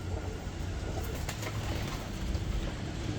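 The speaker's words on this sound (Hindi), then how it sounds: "ये फिरोजपुरी टाइप कबूतर है" An aged Ferozpuri-type pigeon coos softly in a loft, its low murmuring calls partly buried under steady broadband background noise.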